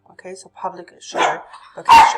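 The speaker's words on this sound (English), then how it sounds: "I apologize for my dogs." Dogs bark in a short burst near the end, loud and close, following a stretch of plain talk.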